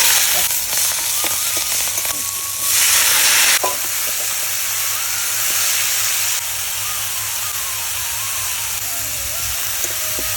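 Dried red chillies and cumin seeds hissing in hot oil beside fried fish heads, a steady loud sizzle with stirring scrapes and a brief surge of hiss midway, no talking.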